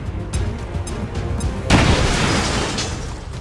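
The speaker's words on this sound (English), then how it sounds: "I think we give him a frag." A frag grenade detonates in XCOM 2: War of the Chosen, a sudden loud boom partway through followed by a decaying rumble and debris wash, after quieter ambient game sound.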